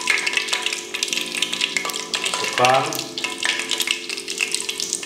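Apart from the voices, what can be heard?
chicken croquettes frying in hot oil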